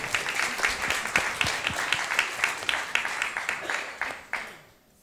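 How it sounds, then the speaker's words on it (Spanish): Audience applause at a Spanish-language talk, a steady crowd of hands clapping fairly close for about five seconds before thinning and fading out at the end. "aplauso, aplauso."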